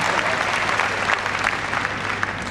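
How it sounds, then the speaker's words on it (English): Arena crowd at Crufts dog show agility applauding a handler and her dog after their run, a dense, steady roar of clapping with a faint low hum beneath. "Big round of applause for Debbie and Bea"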